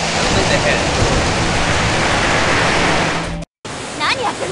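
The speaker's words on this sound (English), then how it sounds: "A massive amount of seawater and countless fish come flooding in" Seawater floods in with a massive roaring rush in the game Ever17, a loud steady torrent like a waterfall that cuts off abruptly, then a quieter watery wash returns.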